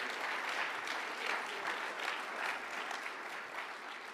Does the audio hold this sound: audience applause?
yes